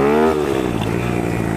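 A dirt bike engine revs hard during a wheelie, a loud, close rasping roar with a high pitched whine that drops after a moment into a rough, steady throbbing idle.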